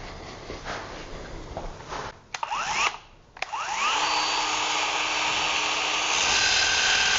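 A Ryobi R18PF cordless power file flattens raised ridges, its belt rasping and grinding with a brief pause and restart midway, then running steadily and loudly close by.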